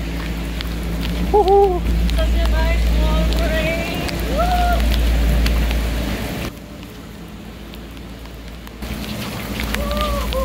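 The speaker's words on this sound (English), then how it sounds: "Wow, it's pouring. It just starts raining like crazy." Heavy rain pours steadily in Jacksonville, Florida, with low wind rumble, while voices talk over it; the downpour briefly quietens before resuming.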